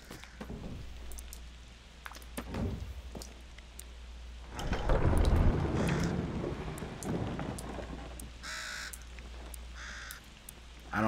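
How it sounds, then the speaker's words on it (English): Crows cawing in the A Plague Tale: Requiem video game, several short harsh calls rising over a steady rumble of rain and wind, with a louder gusty swell midway. "I don't like the crows."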